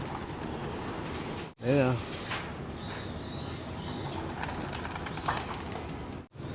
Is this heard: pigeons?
yes